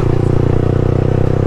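A Yamaha R1 sport motorcycle fitted with an Akrapovic full exhaust system revs, a loud, close, steady throbbing engine note with a rapid pulsing rhythm throughout the brief burst.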